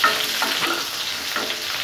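Small shallots frying in hot oil in a pan for a spicy ivy gourd tamarind curry, a continuous crackling sizzle with stirring scrapes, close and steady with no talk.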